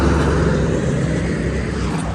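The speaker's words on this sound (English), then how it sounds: "Also, tons of traffic." A continuous broad rumble of road traffic passing by a farm, loud and steady, with wind mixed into the roar and no distinct single vehicle standing out.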